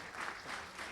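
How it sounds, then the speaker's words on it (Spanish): A brief burst of audience applause greets engineer Waldir Pérez at a talk on proactive maintenance and used-oil analysis, with a dense, even texture of clapping across the whole moment. "Vamos a recibir con un fuerte aplauso al ingeniero Waldir Pérez"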